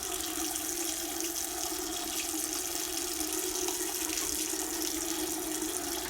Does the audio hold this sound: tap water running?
yes